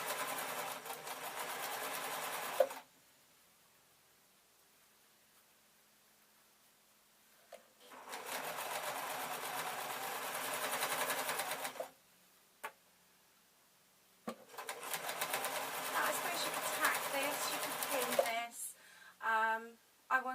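A sewing machine stitches an Easter bonnet in three steady, evenly humming runs of several seconds each, separated by quiet pauses, with a few faint clicks as the fabric is repositioned.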